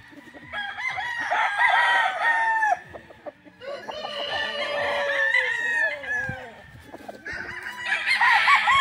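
A young gamecock (stag) crows loudly and close by, several long strained calls in succession, with some clucking between them.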